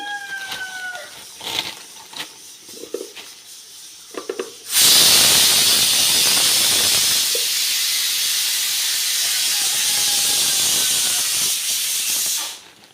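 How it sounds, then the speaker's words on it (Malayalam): A pressure cooker lets out a loud, sustained steam whistle, a harsh rushing hiss that bursts in suddenly after some faint kitchen clatter, holds steady for about eight seconds, then cuts off. "കുക്കറിൻ്റെ വിസിൽ വീണ്ടും വന്നുകൊണ്ടാണ് സംസാരം നിർത്തി"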